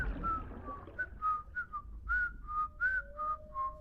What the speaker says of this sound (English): Do you actually want me to whistle